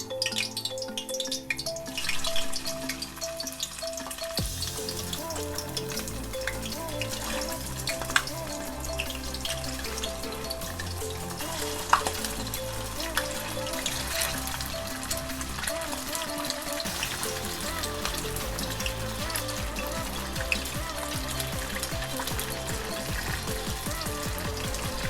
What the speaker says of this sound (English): gently fry the bottom of my wontons, my first batch